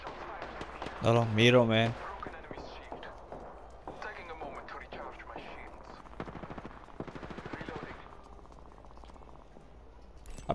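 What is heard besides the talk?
gunfire in Apex Legends video game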